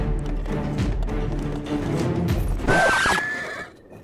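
A horse whinnies in Legend of Zelda: Breath of the Wild, a loud close neigh near the end, following game ambience with faint hoof and mechanical sounds.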